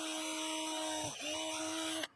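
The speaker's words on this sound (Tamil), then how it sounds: "கொஞ்சம் கிராஸாக வந்து ட்ரில் பண்ணி ஓட்டப்பட்டுக்கிறேன்" An electric drill whines at a steady pitch while boring a hole through PVC pipe, dips briefly as it bites, then stops abruptly.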